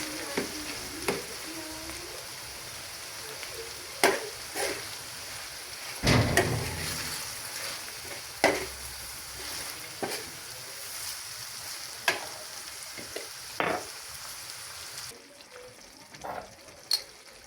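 Lamb saç kavurma sizzling steadily in a pan while it is stirred, with scattered scraping knocks and clatters over the constant frying hiss, close up and with no talk.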